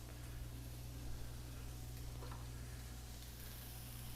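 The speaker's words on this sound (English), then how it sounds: "Our sauce starting to simmer around the sides" Sauce simmering and gently sizzling in a wok alongside softening onions, a steady, even bubbling hiss with a low hum underneath.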